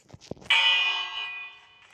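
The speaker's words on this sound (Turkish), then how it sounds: "Bu zili çalınca köylüler düşmez saldırısı olduğunu sanıp korkuyor." A village bell in a video game is struck after two soft knocks, giving one loud bright clang that rings on and slowly fades, heard alone.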